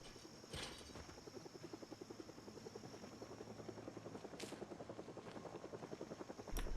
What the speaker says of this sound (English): now that is a helicopter without question.